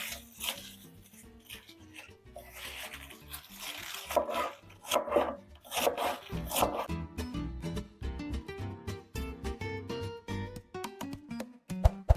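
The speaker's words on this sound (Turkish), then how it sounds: "hemen lahanalarımızı doğruyorum" A knife chopping cabbage on a board for a Turkish kapuska stew, rapid rhythmic cuts speeding up in the second half, crisp and close with no talking.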